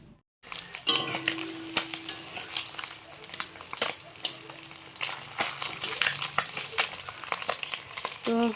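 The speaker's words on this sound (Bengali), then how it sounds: "মাছগুলো সব ভেজে নিলাম" Fish pieces fry in a pan, producing a continuous quiet sizzle with scattered clicks and scrapes of a utensil turning them, heard fairly close at low volume.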